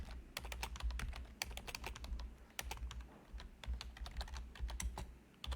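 Fingers type on a computer keyboard in irregular bursts of quick, crisp key clicks with short pauses between runs, heard close and fairly quiet.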